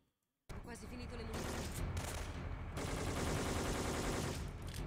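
Heavy gunfire erupts in Syphon Filter 3 during a port-zone shootout. After a brief silence, loud, dense bursts of shots and automatic fire run continuously, with no pauses.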